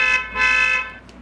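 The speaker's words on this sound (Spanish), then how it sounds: "En algún lugar, la bocina de un auto" A car horn honks in a radio-drama soundscape: two loud, bright tonal blasts close together, the second longer, with a faint tail.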